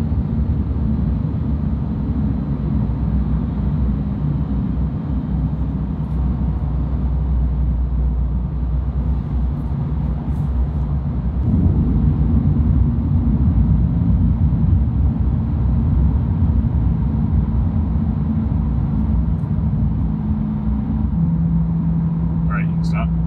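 A 2020 Corvette with a Soul Performance exhaust and sport cats coasts off throttle, giving a steady low drone and rumble that shifts slightly in pitch partway through, with a voice talking over it.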